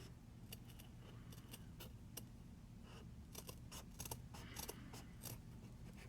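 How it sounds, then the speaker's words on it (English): Several sharp snipping clicks from scissors cutting through stiff bead embroidery backing, close by, irregularly spaced over a steady low background rumble. "So I'm just going to cut this bead backing."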